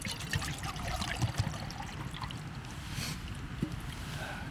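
Water pours from a Gatorade container into a cooking pot at a winter motorcycle campsite, a steady gurgling, splashing stream heard close up for several seconds.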